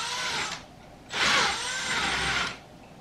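Drill press boring into wood to cut dowels, with two bursts of high whirring: a short run and then a longer, louder one, separated by a brief pause and heard close with no voices.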